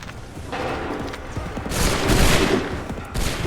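In Assassin's Creed III, a musket volley cracks out as a dense fusillade, with louder bursts partway through and over a rumbling battle background.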